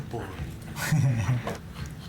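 A dog whimpers and pants softly in a brief anime scene, a short whiny burst rising over steady dialogue and background audio.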